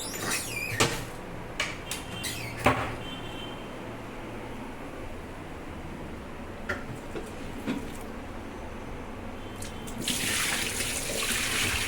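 Ration rice is washed in water with steady sloshing and trickling, plus scattered clicks and knocks of a pot, near and fairly quiet, with a louder splash near the end.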